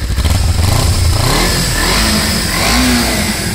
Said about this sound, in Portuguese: Ninja 250 cilindrada, barulho original.